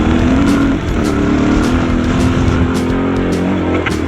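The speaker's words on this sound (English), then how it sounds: "I'm on the modified bike now." A modified Suzuki DR650 dual-sport motorcycle rides an off-road lap, its single-cylinder engine droning loud and close in a steady note, with brief scuffs and knocks from the terrain.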